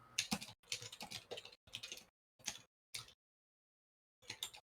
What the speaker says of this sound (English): Was my typing coming through?